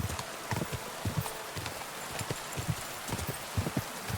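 Horse hooves clip-clopping in the medieval video game Kingdom Come: Deliverance II, a steady rhythmic trot of close, moderately loud hoofbeats over a soft rustling ground, with no talk.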